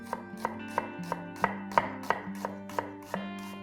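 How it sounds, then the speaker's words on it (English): A knife chops a red onion on a board in a home kitchen, about a dozen crisp, evenly spaced strikes at a brisk steady rhythm, close and clear, with no talking. "The first thing is, of course, cutting a red onion."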